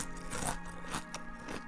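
A crunchy donut-flavoured snack is bitten and chewed, giving a few crisp crunches and crackles close to the microphone over a steady background hum.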